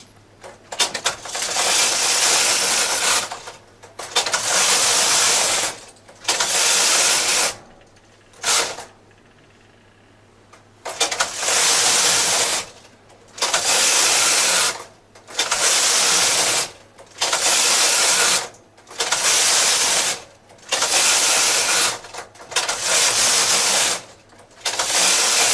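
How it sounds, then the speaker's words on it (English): Knitting machine carriage pushed back and forth across the needle bed with tuck buttons set and a punch card engaged, giving about a dozen loud mechanical whirring, ratcheting passes separated by short pauses, close up, with no talk. "Now I am going to knit the 15 rows."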